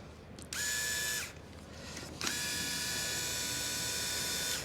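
A power driver spins out Torx screws from the mechatronic unit of a VW 7-speed dry DSG gearbox in a workshop, two whirring bursts, the second longer and steady, with a short pause between.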